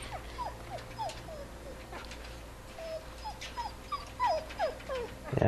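A dog whimpers in the video game The Walking Dead, a string of short, high, falling whines repeating close by over a steady low background hum.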